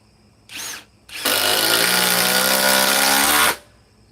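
Milwaukee power tool on a Forge battery: a short motor burst, then a loud, steady whine held for about two seconds that cuts off abruptly, with no talking.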